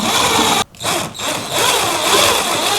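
A power drill drives heavy-duty screws into a board: a loud, steady motor whine that cuts out briefly, dips again, then resumes and holds strong to the end.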